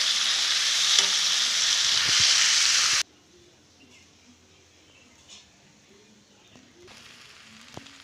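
Raw fish coated in ground spices frying in a pan, a loud steady sizzle for about three seconds that cuts off abruptly, leaving quiet scraping and stirring with a few light clicks.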